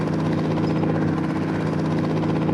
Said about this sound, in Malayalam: നമ്മൾ ഹെലികോപ്റ്റർ ലാൻഡ് ചെയ്തിട്ടുണ്ട്